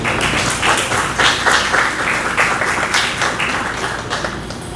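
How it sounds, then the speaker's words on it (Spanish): Audience applause welcoming a doctor to the stage at a morning school talk for parents, a dense, steady clapping from many hands that swells and holds for several seconds without a break. "recibimos con un aplauso, por favor, al doctor de León esta mañana"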